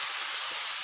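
Raw chicken dropped into caramelized, burnt sugar gives a loud, steady broadband sizzle and hiss, close and constant for the whole short stretch with no voices.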